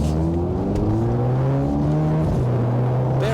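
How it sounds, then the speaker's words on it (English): A 2023 Mercedes-Benz SL43 AMG with a four-cylinder engine accelerates to merge into traffic, a loud steady engine drone rising in pitch through the gears, heard from inside the cabin. "Love the sound of the engine."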